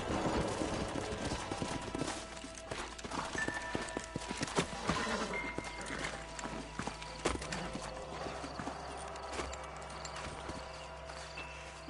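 Steady clip-clop of horse hooves walking in the video game Red Dead Redemption, with an occasional whinny, over a busy background of ambient game sounds and distant gunfire.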